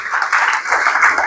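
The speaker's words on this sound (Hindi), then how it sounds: "जोरदार तालियां इनके लिए।" An audience at an investment advisor seminar breaks into loud, sustained applause, a thick continuous roar of many hands.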